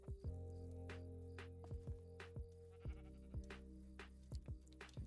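Sheep bleat in the Minecraft survival video game: a series of short, buzzy game bleats repeats every half-second or so over a steady low drone, clear and close with no talking.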